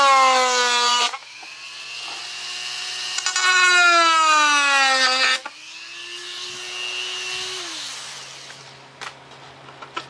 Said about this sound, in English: Go ahead and fire up this Dremel.